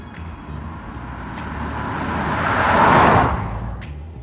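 A 2025 Subaru Forester hybrid in sport mode accelerates on the road, engine and tyre noise swelling steadily to a peak near the end before easing off slightly, heard from inside with no talking.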